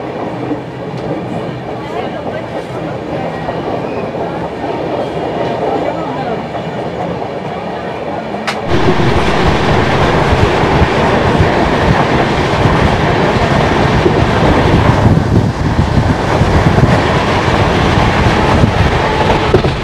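The 13152 Jammu Tawi Express from Ayodhya to Kolkata rumbles along the rails, its steady clatter getting abruptly louder halfway through and then holding a constant roar with rhythmic wheel clicks.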